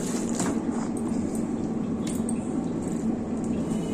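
Hands mix a cabbage and spinach fritter batter, a soft continuous squelching and squishing close by, steady and low with faint wet clicks, no voice over it.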